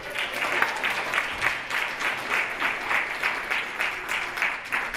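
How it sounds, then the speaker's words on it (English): A studio audience claps for game show contestants, loud and close, the applause swelling in rhythmic bursts of many hands that hold steady throughout. "Give them a round of applause."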